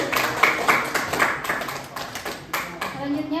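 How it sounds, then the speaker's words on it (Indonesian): A seated audience at a talk on fathers and exclusive breastfeeding claps in a brief burst that tapers off, with a voice speaking over the applause. "kita berikan tepuk tangan dulu untuk Bang Kus atas pertanyaannya"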